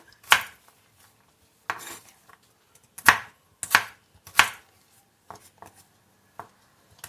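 A knife chops raw mango into small pieces on a board for juice, giving a handful of sharp, close knocks at irregular intervals with quieter taps between.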